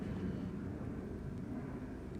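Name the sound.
airplane flying in the background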